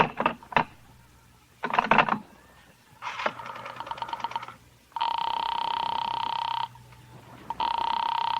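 Telephone call being connected in an old radio crime drama: a few sharp clicks and a ratcheting dial mechanism, followed by loud, sustained ringing tones that stop and restart, with no talk.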